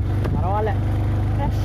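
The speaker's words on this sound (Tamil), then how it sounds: "ஏறுதுங்க நல்லா நம்ம வண்டி" A vehicle engine labours uphill in a steady, low, close drone with even harmonics, while voices talk over it.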